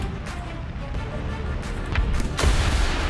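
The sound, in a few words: cannon fire from M3A3 Bradley in War Thunder video game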